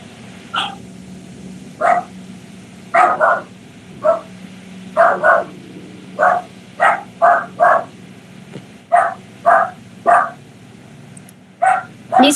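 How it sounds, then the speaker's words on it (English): Dogs bark at someone outside during an online class, about twenty sharp, loud barks spaced irregularly across the stretch, some in quick doubles, over a faint steady hum. "Please excuse the dogs because someone is outside."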